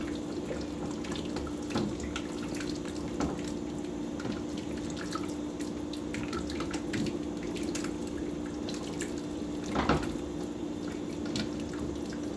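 Water poured from a pot into another pot of vegetables while making butternut squash soup, heard as a quiet, continuous trickle with scattered drips and splashes over a low kitchen hum.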